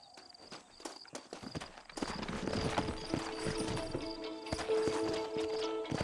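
Hooves clip-clop steadily on hard ground in the game Red Dead Redemption, with a horse snorting and whinnying amid a busy, layered backdrop that grows louder partway through.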